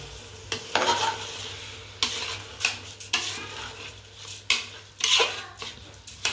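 Chicken dum biryani mixture stirred in a pot with a spoon, repeated scraping strokes against the metal every second or so over a soft steady sizzle, close and alone.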